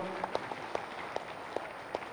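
Scattered, uneven hand claps from an audience at a spiritual talk event, a handful of sharp separate claps over a steady room hum rather than a full burst of applause.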